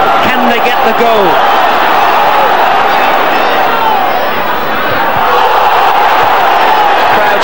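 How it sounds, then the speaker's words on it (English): A huge football crowd at a Leeds United match roars and screams continuously and loudly throughout, a dense wall of voices with no letup. "Crowd screaming for everything now every time the ball goes into the penalty box."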